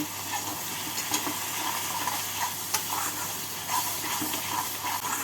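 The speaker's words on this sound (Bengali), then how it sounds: "এবার মশলার সাথে ভালো করে মিশিয়ে নেব" Spices are stirred in a pan with sugar and garam masala, with a steady sizzling hiss and soft scraping strokes of the spoon. The sound is close and constant, with occasional brighter clicks.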